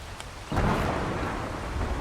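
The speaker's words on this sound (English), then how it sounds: "Is the rain stopping?" Video game rain hisses steadily before a sudden thunder rumble swells in, broad and loud, then holds as a heavy wash of rain and rolling thunder with no talking.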